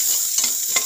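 Ginger being stirred in a cooking pot for Bisaya-style adobo, a soft scraping stir with a couple of brief clinks over a steady hiss of frying, close by and short.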